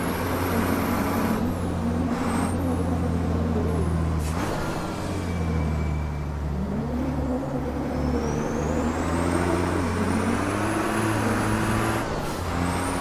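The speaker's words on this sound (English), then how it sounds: "This truck sounds like a real decent truck" A formula racing truck engine in a sim racing game drones steadily with deep, layered harmonics, its pitch rising and falling as it revs and shifts throughout, with a brief hiss near the start of the middle section.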